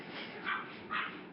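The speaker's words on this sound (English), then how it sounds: "that's my dog barking" Two short, soft barks from a dog some distance away, spaced about half a second apart, with faint background hiss.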